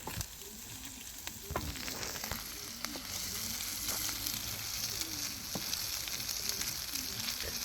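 Lamb kokoreç fries on a sac pan with a steady, close sizzle, broken by repeated scraping and clanking stir strokes at irregular intervals, and no voices.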